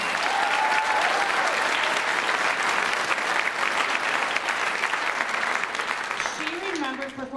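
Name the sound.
audience applause at choir concert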